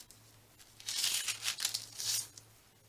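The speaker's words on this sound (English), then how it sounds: "I'm going to put my tissue paper in there." Tissue paper being crinkled and tucked into place for embellished tea bags, a few quiet crisp rustling bursts over about two seconds with a faint low hum beneath.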